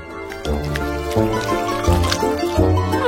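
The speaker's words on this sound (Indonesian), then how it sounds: "Aku akan mengumpulkan coklat ke dalam kaleng." Melted chocolate from a fondue is gathered into a can, with close, wet pouring, dripping and squishing sounds that come in several uneven surges.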